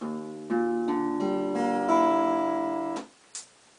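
Out-of-tune acoustic guitar strings are strummed and left ringing, the chord sounding sour and clashing before it is cut off abruptly, followed by a brief faint knock.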